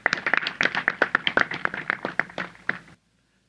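A small audience claps for a guest at a recorded podcast event, a short burst of distinct, fairly close handclaps that thins out and stops abruptly after about three seconds.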